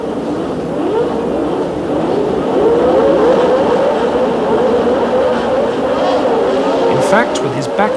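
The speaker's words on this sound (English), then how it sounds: "With his back wheels spinning, Piquet is left standing." 1981 South African Grand Prix start, Formula 1 cars with rear wheels spinning: a loud, continuous roar of racing engines with rising and wavering engine pitch, close and dense throughout, with a commentator talking over it.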